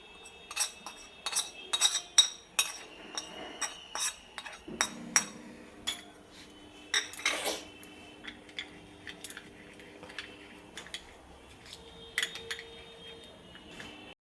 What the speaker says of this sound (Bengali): একটা বাটির মধ্যে আমি মশলাটা একটু পেস্ট বানিয়ে নিচ্ছি, সবগুলো একসাথে মিশিয়ে